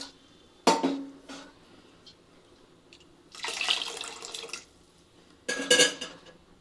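Water splashes and pours into a cooking pot for rasam in three separate bursts, close by, with quiet pauses between them.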